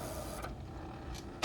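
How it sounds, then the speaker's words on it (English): Epson EcoTank 15000 printer running a test page, a steady low mechanical hum with faint whirring and a couple of brief clicks, ending in a sharper knock. "It's printing the test page."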